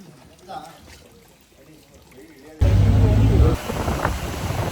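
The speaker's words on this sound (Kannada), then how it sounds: "ಈ ಮಳೆ ಬರ್ತಾ ಇದೆ." A quiet stretch with faint voices gives way to sudden, loud rain pouring down heavily in the Western Ghats near Bandaje, a dense steady hiss that continues to the end.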